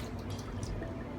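Liquid cayenne pepper being poured onto chicken for spicy fried chicken, a steady close trickle and drip of thin liquid running continuously without talk.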